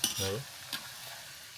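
Jawla (dried shrimp) bhaji frying in very hot oil, a brief burst of crackling sizzle that settles into a steady, softer hiss, close by.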